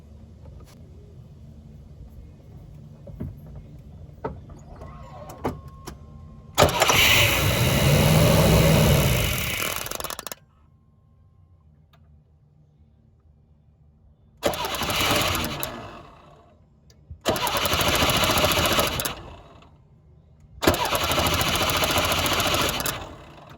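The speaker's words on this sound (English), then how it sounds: "expectation is that it's gonna crank up and run for about 3 seconds and then it's gonna die" A Chevrolet GMC 2.8 engine with a starting fault cranks and catches for about three seconds of loud running, then dies, followed by three more separate cranking bursts with quiet gaps between them.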